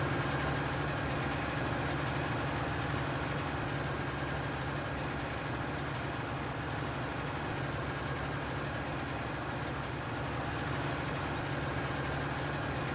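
A farm tractor engine runs steadily through the whole stretch, a constant mid-to-low rumble at moderate level with no change in pace and no talk.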